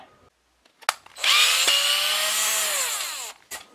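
A power drill drives a screw into the center of a wooden dowel rod in one sustained whirring run of about two seconds. It is close and loud, with brief clicks and handling noises before and after.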